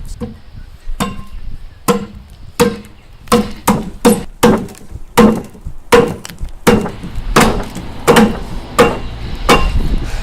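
An axe strikes and hews a wooden beam being prepared for joints. About twenty sharp, close chopping blows land in a steady rhythm, with some splintering between them and no talking.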